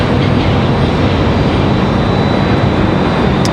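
A Southwest jet landing at Raleigh-Durham International Airport, heard as a loud, steady broadband engine roar that stays close and constant throughout, with no voices.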